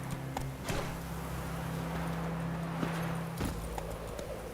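A horse's hooves clip-clop in The Witcher 3 video game, a steady run of soft hoofbeats over a constant low rumble of in-game ambience.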